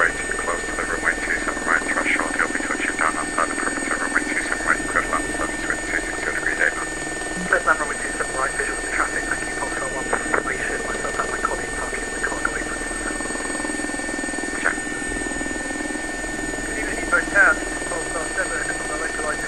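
Simulated air ambulance helicopter in X-Plane 11 flies in to land on a road near Heathrow, its steady rotor and turbine drone running throughout under frequent talk.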